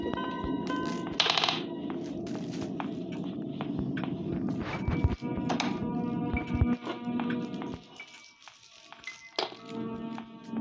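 A mat thrown down in the Granny horror video game lands with a soft thunk amid taps and footstep-like knocks, over a constant low game hum with a few bright clatters.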